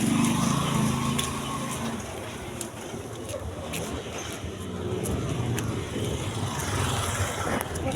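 Cars and other vehicles pass on a road, their engines humming and whooshing at moderate distance as a continuous traffic wash, louder at the start and easing later.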